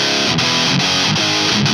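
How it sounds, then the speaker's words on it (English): Heavily distorted electric guitar through a Walrus Audio Fundamental Distortion pedal, chugging steady chords, loud and close, with regular accented strums and no voices. "That's a bit of a playthrough with the Fundamental Distortion by Walrus Audio."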